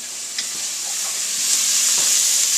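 Onions frying in a pan for minestrone soup make a steady, bright sizzle that swells slightly, punctuated by a few light stirring clicks, close and loud with no voices.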